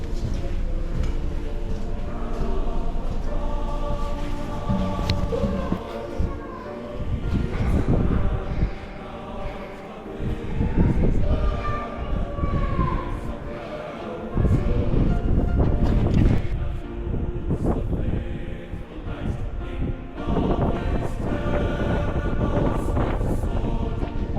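Strong gusting wind at a 120-year-old decommissioned military fort buffets the microphone in rough, uneven rushes, swelling and dropping over a low rumble, with no one speaking.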